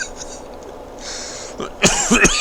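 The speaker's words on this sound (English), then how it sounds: "I got this lingering cough." A man coughs several times in quick bursts near the end, loud and close, after a stretch of faint background noise from a PS4 game of Farming Simulator 17.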